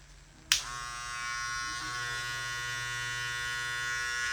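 An electric hair clipper with a hardened steel blade switches on with a sharp click and then holds a steady, close, high buzzing drone, loud and even, with no talk over it.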